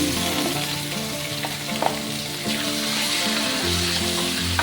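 Chicken sautés with golden garlic and onion for pancit habhab, giving a loud, steady frying sizzle with a low hum underneath and brief scraping clatters from stirring.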